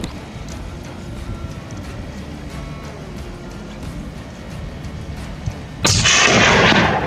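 Gunfire in a first-person shooter video game rings out as scattered sharp reports over a steady rumbling bed, followed by a loud, sustained blast of noise near the end.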